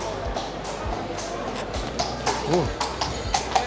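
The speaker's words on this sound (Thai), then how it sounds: "มีน้องม้ามาด้วยทุกคน" Horse hooves clip-clop at a steady walking pace on a city street in Florence or Bologna, Italy, heard amid busy outdoor ambience with people talking nearby.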